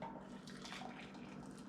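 Hot water pours into a cup holding a tea bag with a soft, continuous splashing stream, quiet and close, lasting under two seconds.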